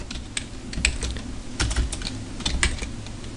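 Typing on a computer keyboard, a light run of irregular key clicks and taps close by, steady and moderate in volume, with no voices.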